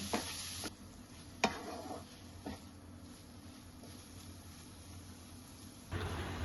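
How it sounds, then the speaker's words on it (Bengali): Grated paneer is stirred with vegetables in a frying pan over a medium flame, with a faint steady sizzle, soft scraping, and a few light utensil taps against the pan, quiet and close. "পনিরটা দিয়ে বেশ এবার নাড়াচাড়া করে মিশিয়ে নেব সবজির সাথে।"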